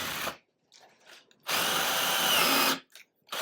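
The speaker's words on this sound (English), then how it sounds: "the drill bit was slipping when I was doing this earlier" A power drill with its bit slipping whirs in two bursts, a short one then a longer steady run, with brief quiet gaps and faint scraping between them.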